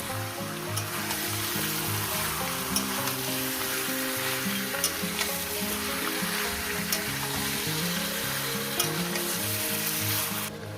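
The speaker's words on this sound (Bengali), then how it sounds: "চিকেনটাকে দিয়ে আমি হাই গ্যাসে ভাজবো" Chicken frying on a high gas flame, a loud, continuous close sizzle with occasional stirring clicks, steady throughout and without speech.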